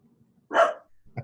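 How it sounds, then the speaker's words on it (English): A single dog barks once, loud and fairly close, followed by a shorter, softer yelp, with quiet between. "That's my dog, by the way."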